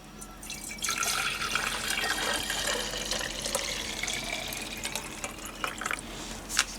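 Vinegar pours into a container for mixing a homemade nickel plating solution, a steady trickling liquid stream heard fairly close for several seconds, with a few small splashes and clinks toward the end.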